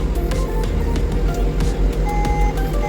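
A Develon DX50 compact excavator sounds its quick hitch release warning: a steady series of short electronic beeps over the constant rumble of the engine held at high revs.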